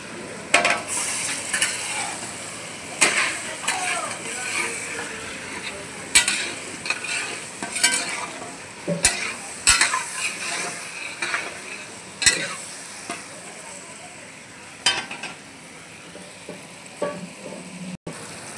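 Marwari fenugreek and other ingredients roasting in a pan, with a continuous soft sizzle broken by repeated scraping and clinking strokes of a utensil stirring against the metal, close and steady throughout.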